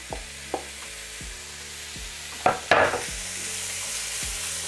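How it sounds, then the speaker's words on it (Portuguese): Beef sizzling and frying with onions in a pan for a beef risotto, a steady hiss with a few utensil scrapes and clacks near the middle, no voices. "a gente já vai entrar com a carne e vamos deixar essa carne dar uma fritadinha"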